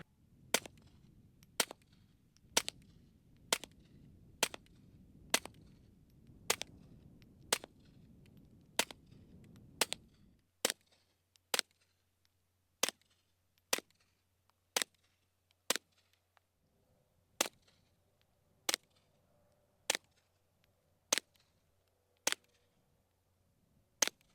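Suppressed gunshots from a Ruger 10/22 Tactical with threaded barrel and Q El Camino suppressor, a steady series of about twenty sharp, evenly spaced cracks at a range, with a low background hum during the first shots.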